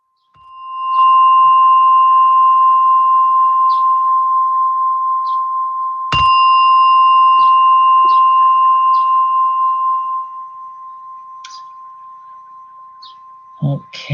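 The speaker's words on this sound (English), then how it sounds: "as you hear the gong, slowly open your eyes and come out from meditation." A meditation gong strikes once at the start and rings with a long steady tone, then a second strike lands midway and decays slowly, with soft faint clicks and a brief voice near the end.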